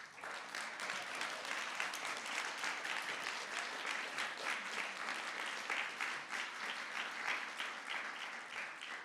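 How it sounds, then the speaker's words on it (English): Audience applause at a community forum on the history of Little Jamaica, a dense, continuous round of clapping heard at a distance and fairly quiet. "So please, round of applause."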